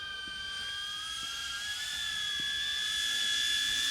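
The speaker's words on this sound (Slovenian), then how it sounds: "Evo ga, dron leti." Small drone flying nearby, its rotors giving a steady high-pitched whine and hiss that slowly rises in pitch and grows louder, heard outdoors with no talking.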